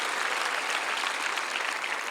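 A church congregation at a peace and reunification prayer rally at the Yongsan War Memorial breaks into dense, continuous applause, steady and loud with no voices over it.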